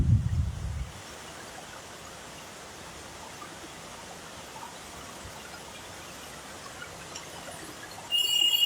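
Floodwater lies on a street during heavy monsoon rain in Siliguri, with a steady, faint rushing hiss of water throughout and louder bursts of noise at the very start and end.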